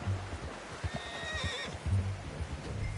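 A horse in the Red Dead video game whinnies clearly at mid-distance with a shaky, rising and falling call, while hooves clop and faint rain patters around it.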